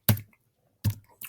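Typing a zip code on a computer keyboard, three sharp isolated key clicks spaced about three quarters of a second apart, close and clear with no voices.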